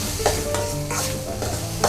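Corn kernels stirred into a sizzling masala with curry leaves in a pan, a steady frying hiss with scraping strokes of the spoon recurring about every second, close and fairly loud.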